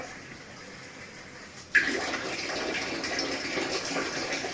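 A tap is turned on partway through and water runs steadily and fairly loudly, splashing into a basin after a brief quiet start.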